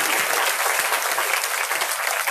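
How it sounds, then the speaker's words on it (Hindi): An audience claps in steady, dense applause at a Srimad Bhagwatam katha religious gathering in Noida, with loud, continuous clapping and no pauses. "तो आप लोग ताली बजा रही है इन लोगों के लिए"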